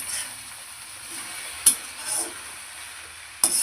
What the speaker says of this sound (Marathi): याच्यावर घालायची आता मी हे थोडंसं परतणार आहे अगदी थोडं